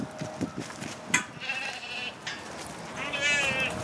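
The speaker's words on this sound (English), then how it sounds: "And they have a bunch of sheep out here." Sheep bleat repeatedly in a high school farm pen holding older animals, several wavering calls near and moderately loud over a steady background murmur.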